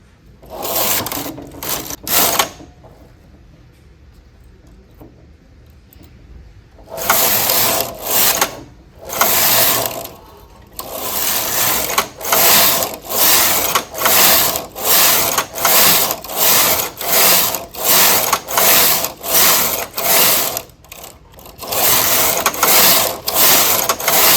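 A domestic knitting machine works a Fair Isle pattern. After a quiet pause, the carriage sweeps back and forth in regular, close clattering passes, each a bright mechanical rush.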